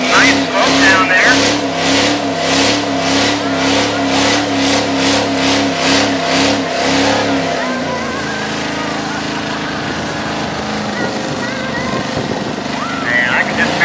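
A 1946 Plymouth gasser engine revs hard during a huge tire burnout, a loud pulsing roar that drops to a steady lower drone near the end, with voices over it.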